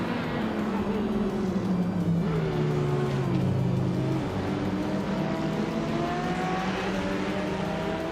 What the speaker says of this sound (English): Kyroscope is in 4th place with an Aston Martin Vantage GTE from 2012.